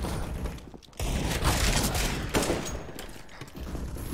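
Dense gunfire from a first-person shooter game, rapid shots and booms blending into a loud continuous roar that dips briefly near the start, with no talking.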